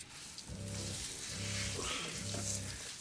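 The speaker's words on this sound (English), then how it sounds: "Nice little outdoor shower" Water from an outdoor camping shower sprays steadily in a broad hiss, close and continuous, while a low pulsing hum from a pump or heater rises and falls underneath.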